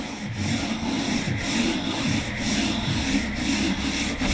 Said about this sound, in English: Directional sanding.